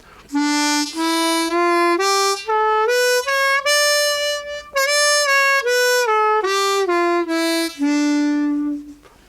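A harmonica in third position plays a melodic minor scale, one clear sustained note after another rising and then falling back down, loud and close with no other sounds.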